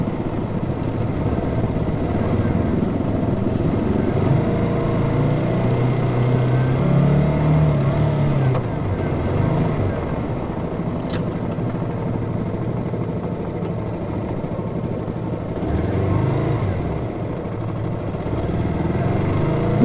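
Cars and motorcycles idle and creep along in a traffic jam on the way into Surabaya, Indonesia. The engine rumble is dense and continuous, with a faint rise in revving partway through and no voices.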